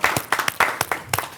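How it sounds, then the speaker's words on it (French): Applause from a small audience at a French sports gathering, a short burst of irregular, fairly close individual claps with no talking. "applaudissez-vous"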